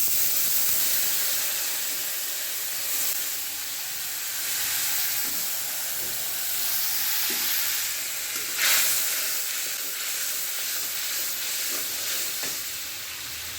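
Water poured into spiced hilsa fish curry in a hot pan sets off a loud, continuous sizzling hiss that bubbles steadily throughout, close up, with a few faint knocks of a utensil and no voices.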